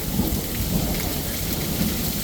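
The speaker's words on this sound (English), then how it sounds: "Today we have a thunderstorm." Thunderstorm in the desert with steady heavy rain falling on surfaces and low thunder rumbling underneath, a continuous loud wash of sound with no voices.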